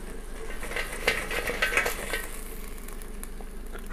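Sausage sizzles and crackles in a BioloMix air fryer, hot fat popping, while utensils clink and scrape now and then as the food is stirred.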